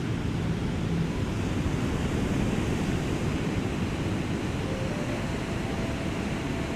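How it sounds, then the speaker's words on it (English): Steady ocean surf washing onto a sunrise beach, a continuous broad roar of breaking waves that stays loud and even throughout with no voices. "And as we look at the waves come into the shore"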